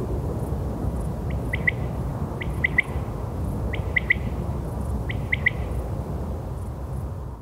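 A small bird hidden in field crops repeats a quick three-note call four times at even intervals, fairly distant, over a low steady rumble of open countryside.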